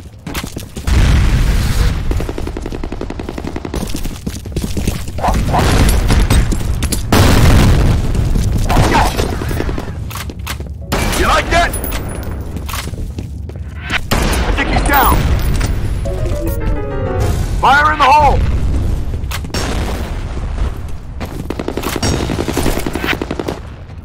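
Rapid gunfire and booming grenade blasts in the shooter game F.E.A.R. Combat, loud and continuous with repeated heavy bursts, sharp cracks and rolling explosions across a busy firefight.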